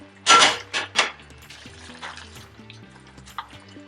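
A spoon stirs a pot of meat cooking down with African sticky leaf greens, giving a few sharp scraping clinks against the pot and then a soft simmering bubble under quiet background sounds.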